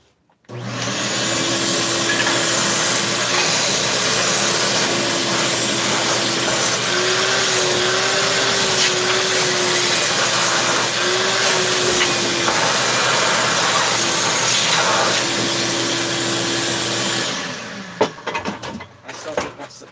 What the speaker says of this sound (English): hit this with the vacuum too